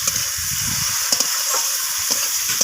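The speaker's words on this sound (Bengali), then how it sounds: "সমস্ত কিছু মশলা আমি এইভাবে নাড়াচাড়া করে ভেজে নিচ্ছি সবজির সাথে।" Ground spices including cumin being stir-fried with vegetables in a pan for a rohu fish curry, a bright continuous sizzle broken by a few sharp spatula scrapes and clinks.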